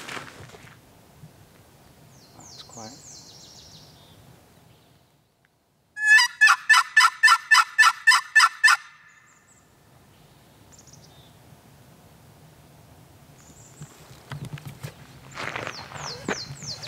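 On a high ridge road during a spring hunt, a wild turkey lets out one loud burst of rapid, rolling gobbles in the middle, with quiet footsteps and rustling outdoors before and after.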